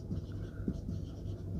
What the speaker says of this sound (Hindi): यहाँ पर मैं लिख सकता हूँ